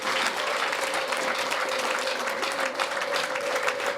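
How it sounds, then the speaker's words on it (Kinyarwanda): A wedding audience claps in a dense, continuous burst of applause that holds a steady loudness throughout, with a faint sustained tone running underneath. "Mwakomeye Imana amashyi."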